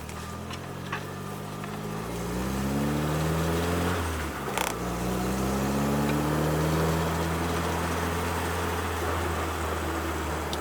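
Triumph Spitfire with a Monza exhaust running steadily, heard from inside the cabin: a low, droning engine note with rising and falling harmonics as revs change, and a brief knock midway through.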